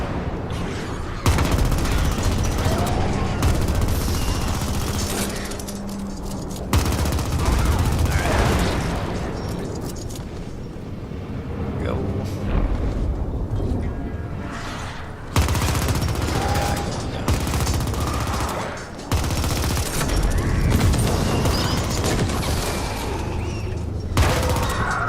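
Video game gunfire rings out in dense, continuous bursts as a player blasts a way out, loud throughout with a voice talking underneath.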